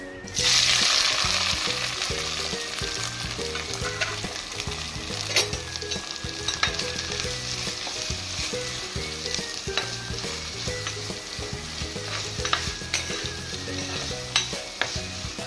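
Steady sizzling of shallots, garlic, crushed ginger, green chillies and curry leaves frying in hot coconut oil for beef curry, close up, with occasional spatters and pops and a few scraping stirs.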